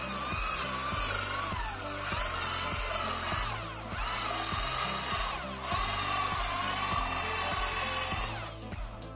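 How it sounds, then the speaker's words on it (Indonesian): A power drill fitted with a 64 mm Kodenki hole saw cuts into multiplex plywood, grinding loudly and close in a steady, rhythmically pulsing whir, easing slightly near the end, with no talk. "kita coba dengan hole saw yang paling besar ukuran 64 mm seperti apa hasilnya."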